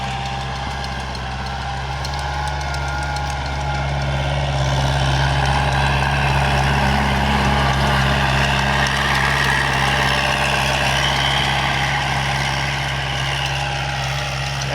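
A heavy diesel tractor engine with a rotovator runs steadily up close during rice field preparation, a loud low throbbing drone that swells slightly midway and holds without pause.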